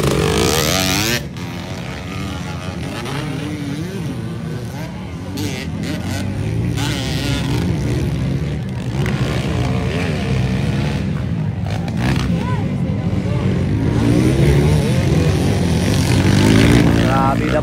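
Motocross motorcycles race at a local enduro competition in Valencia City, engines buzzing and revving continuously at close range with rising and falling pitch as bikes pass, under crowd noise.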